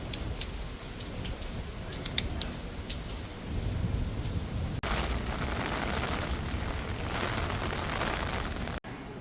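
Steady rain falling in a dense, even hiss, with faint scattered drop ticks and a couple of sharp clicks, moderate and without talk.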